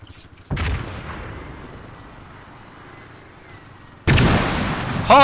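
Mortar fire in the game Antistasi: a heavy boom lands early, a quieter rumble trails off, then a second loud blast hits near the end, close and powerful.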